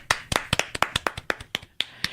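In a radio studio, a handful of sharp, distinct claps and finger snaps ring out in a quick, irregular series, close and crisp with brief gaps between them.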